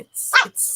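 A pet dog gives a single sharp bark close by, cutting in between a woman's subdued speech in a quiet home.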